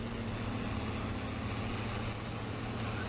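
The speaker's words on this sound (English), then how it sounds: "This tractor sounds so good." Steady, continuous tractor engine drone from Farming Simulator 22, a constant low rumble with a strong tonal hum and no breaks, holding at even loudness throughout with no voices over it.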